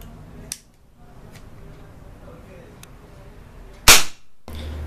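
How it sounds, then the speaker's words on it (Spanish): A Mendoza K62 pistol fires a single loud, sharp shot into a target of triple corrugated cardboard and a phone book, a quiet stretch and faint clicks coming before the blast. "Procedemos ahora a disparar."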